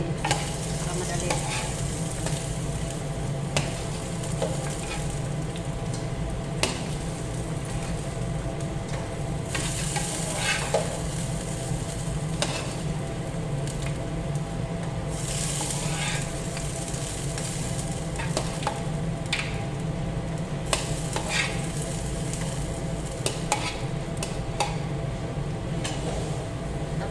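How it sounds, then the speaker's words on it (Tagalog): Chicken fries and is stirred in a pan for chicken kabsa, giving a long, even sizzle under a low steady hum, with occasional soft scrapes and clinks from the utensil and no speech. "Tapos iprito na lang natin para madali."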